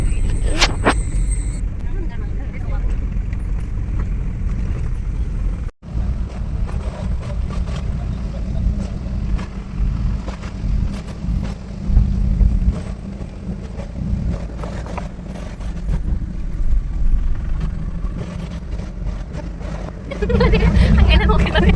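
Auto rickshaw ride toward Madathara, with steady engine rumble and road noise continuing throughout, a brief dropout near the middle, and faint voices in the background.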